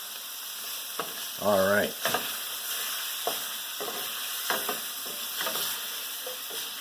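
Butter sizzling in a stew pan for beef stew, a steady bright frying hiss punctuated by scattered pops and spoon clinks, with a brief spoken remark near the start.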